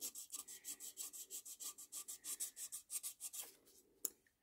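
Sandpaper worked by hand over a filled chip on porcelain or ceramic, about twenty quick, evenly spaced back-and-forth rasping strokes close up, ending in a sharp tap; no talking.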